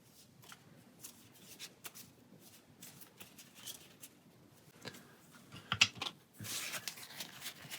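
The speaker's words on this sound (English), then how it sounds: "2 will get shuffled back into our deck" Playing cards being shuffled back into a deck during a Pathfinder Adventure Card Game session, a quiet, close series of soft riffling flicks and taps, with a louder rustling flurry toward the end.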